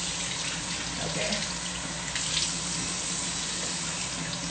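Water runs steadily from a bathroom tap into a sink, a constant close rushing hiss with no pauses.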